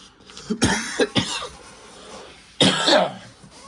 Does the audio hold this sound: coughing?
yes